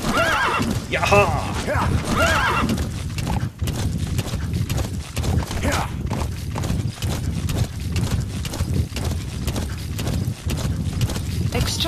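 Horse whinnying and galloping hooves in Metal Gear Solid V: The Phantom Pain, a steady rapid clip-clop beat under a loud neigh near the start, with someone talking and shouting over the ride.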